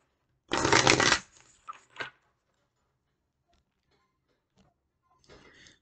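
Tarot-style moon cycle oracle cards are shuffled in one loud riffling burst, followed by a few soft taps and card handling, then quiet with faint rustling near the end.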